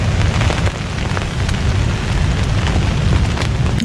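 Steady, dense rain drums on a German Flecktarn pup tent on a wet, windy night, a continuous close hiss and patter with low rumbling wind beneath and no voices.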